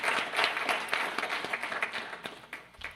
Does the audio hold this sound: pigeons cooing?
no